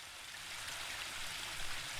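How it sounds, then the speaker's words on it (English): Steady rushing water of a waterfall in the woodland realm of The Book of Unwritten Tales 2, a continuous broadband hiss heard alone at an even, moderately loud level throughout. "The waterfall and I have been neighbours for so long that I don't really hear it anymore."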